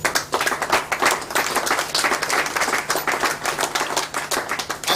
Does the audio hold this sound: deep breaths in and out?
no